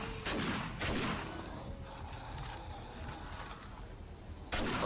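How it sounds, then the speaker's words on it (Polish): Shotgun blasts fired in the zombie survival game 7 Days to Die, a few loud sharp bangs spaced apart over a continuous gameplay background of mechanical clatter. "Nie nadążam ze strzelaniem. Nawet z mojej strzelby super."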